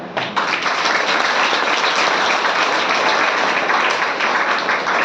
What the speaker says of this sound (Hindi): जैसे मास्टर साहब के लिए ताली होना चाहिए